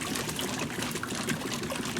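Water rushing steadily through plumbing lines during a bleach flush while unwinterizing, a continuous hissing, trickling flow at even loudness throughout.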